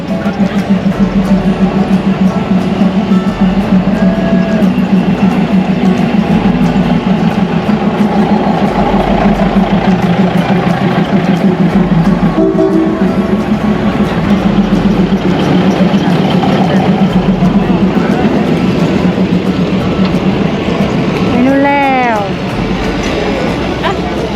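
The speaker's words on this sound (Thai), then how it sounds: "รถไฟมาแล้ว" A train rumbles loudly and continuously close by while crossing the River Kwai bridge in Kanchanaburi, Thailand, a steady mechanical drone with rattling, and a high squealing sound near the end.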